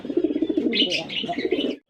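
Fancy pigeons at a pigeon farm sale coo in a steady, rolling rhythm close by, with a few brighter chirps rising above the low murmur.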